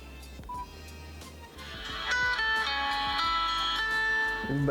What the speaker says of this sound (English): to put in the battery and start this phone up